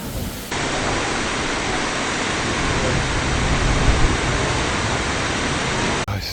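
A powerful Icelandic waterfall roars as a dense, steady broadband rush from close by, heard alone without talk and continuing evenly for the whole stretch.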